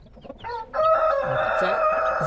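Several chickens, including Wyandottes, cluck and call close by, busy overlapping vocalizations with a crow-like drawn-out note, growing louder after a brief quieter start.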